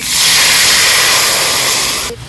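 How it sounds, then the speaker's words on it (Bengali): Nigella seeds and mustard paste hit hot oil for a Bengali shorshe ilish tempering, giving a loud, steady broadband sizzle that holds evenly for about two seconds before cutting off abruptly near the end. "যে তেল আছে এর ভেতরে ফোড়নটা দিয়ে দেবো কালো জিরে এবারে সর্ষে বাটাটা দিয়ে দেবো"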